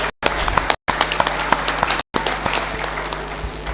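Applause for the Mithila Student Union Tri City fills a live Maithili cultural gathering, a steady crowd clapping with sharp individual claps popping out, briefly cut by short gaps of silence.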